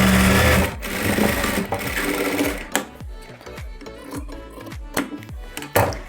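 A sewing machine stitches a seam on a four-tuck blouse in a short run, then clatters through a series of quick separate stitch bursts and knocks, close and clear with no talk.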